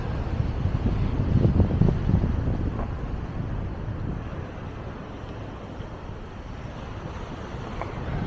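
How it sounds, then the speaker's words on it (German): Strong coastal wind buffets the microphone near Meloneras on Gran Canaria by the Atlantic, a steady low roaring rumble that swells loudest early on and then settles into a continuous gusty hiss with no voices. "Ja, und wir haben jetzt noch wieder kräftigen Wind."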